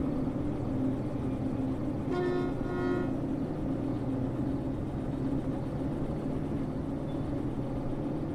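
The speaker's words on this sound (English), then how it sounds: "Alright, brake off. Here we go. We're gonna pull in and let the train do its job." A train in the railway simulator game Derail Valley pulls in over a steady low rumble, with a short horn toot sounding about two seconds in. No one speaks.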